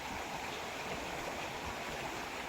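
Forest river flowing steadily, a dense, even rushing wash of water that sounds close and continuous, with no voices over it.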